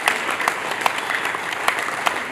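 Applause from a gathered crowd at a 77th Independence Day flag-hoisting ceremony, a steady dense patter of clapping with a few sharper claps, brief and fairly near.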